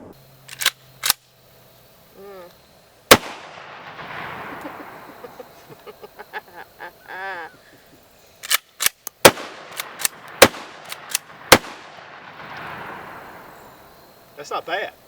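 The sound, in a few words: Charles Daly Honcho 410 pump shotgun firing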